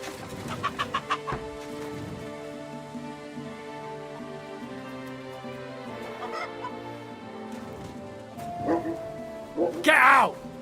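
A dog barks in Kingdom Come: Deliverance 2, with a few sharp barks early and again near the end, amid farmyard fowl clucking and a rooster crowing over steady background ambience.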